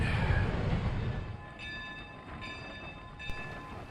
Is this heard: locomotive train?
yes